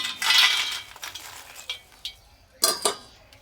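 Crispy homemade potato chips tossed and mixed in a bowl, giving bright rustling crunches and light clinks in a few short bursts, close and fairly loud with no talk.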